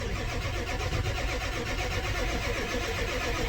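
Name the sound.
diesel van engine cranking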